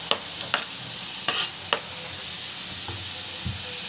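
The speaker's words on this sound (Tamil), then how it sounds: "நல்லா வந்து வதங்கட்டும்" Ridge gourd sautéing in a pan gives a soft, steady sizzle, broken by a few sharp utensil scrapes and taps, heard close with no one talking.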